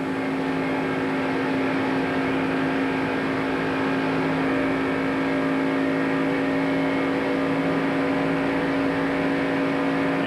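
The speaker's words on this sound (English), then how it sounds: "We can hear the engine in Mark Martin's car." A loud, steady NASCAR stock car engine drone at high revs, heard from inside the car during the 1994 Pepsi 400 at Daytona, constant and unbroken throughout.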